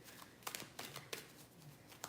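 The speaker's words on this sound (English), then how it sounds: "I love this deck. I love how it shuffles." A deck of reading cards being shuffled: quiet, quick riffling bursts and soft card slaps in an uneven rhythm, close by and alone without speech.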